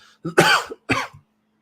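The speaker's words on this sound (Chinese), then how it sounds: "你又咳嗽了 Are you coughing again？" A teacher with a sore throat coughs twice, close and loud, a harsh burst followed by a shorter second cough.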